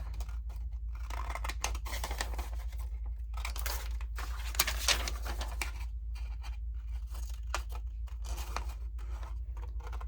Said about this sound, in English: you cut that off so it folds up nicer